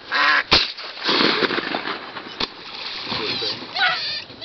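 Ducks quack and honk during a duck hunt at a marsh, with splashing, brief sharp knocks and people talking close by.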